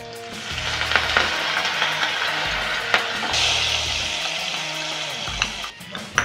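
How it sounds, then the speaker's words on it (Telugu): A tadka for chukka kura dal sizzles and fries loudly and steadily at close range, with some stirring and spitting bursts and no talk. "మనం ఈ చుక్కకూర పప్పును తాలింపు వేసుకుందాం"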